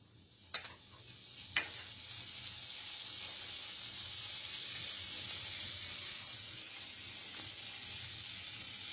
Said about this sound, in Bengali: এবারে আমি ওই কড়াইতে নিয়ে নিচ্ছি বাটার, 3টে ছোট ছোট বাটারের কিউব নিয়েছি